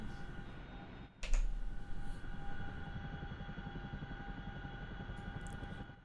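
A Chinook twin-rotor helicopter in the DCS flight simulator drones steadily with a pulsing low rotor thrum and a high engine whine, broken by a brief sharp knock early on.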